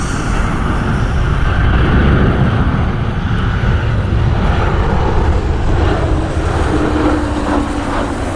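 American Airlines jet inbound from DFW on a rainy day at Cleveland, a steady loud broadband roar of the engines with a low rumble and no voices.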